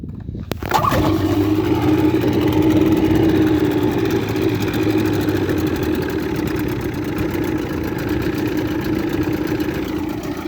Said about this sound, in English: Now let's get straight to how this engine runs on this boat.